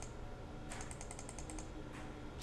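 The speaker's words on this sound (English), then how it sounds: "So I'm just going to start clicking fast." Rapid computer mouse clicks, a quick even run of about ten light clicks in the middle, then a sharper click at the end, close and quiet with no talking.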